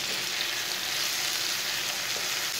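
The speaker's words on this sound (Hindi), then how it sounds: "सब चीज़ों को अच्छी तरह मिक्स करके 2 मिनट तक भून लेंगे" Tomatoes and spices frying in oil for a zucchini and egg curry, a dense, even sizzle that holds steady throughout with faint stirring, close and without voices.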